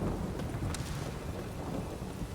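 Steady rain with rumbling thunder in The Witcher 3: Wild Hunt forms a constant, fairly loud storm wash with no talking.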